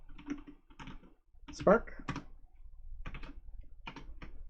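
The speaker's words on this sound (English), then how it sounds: "We're going to type in import" Light computer-keyboard typing in short bursts of soft clicks, heard under a voice speaking a single word partway through.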